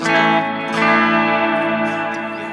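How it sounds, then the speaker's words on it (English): A sustained electric guitar chord from an Ena Nova Go Sonic smart guitar rings out thick with reverb, its tone washing and swelling slightly before slowly fading. "just soaked in a ton of reverb."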